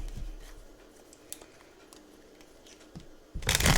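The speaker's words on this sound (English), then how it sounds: "I know that's loud on your end for my shuffling" Tarot cards being shuffled close by, a quiet rustle with a few soft clicks, then a louder riffling burst at the end.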